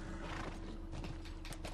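Horse in The Last of Us video game, clip-clop hoofbeats and a short whinny in a brief close burst.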